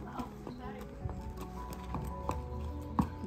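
Horse hooves clip-clopping in a steady, uneven rhythm during a 2023 crime-mystery trail ride, with people talking in German over them throughout.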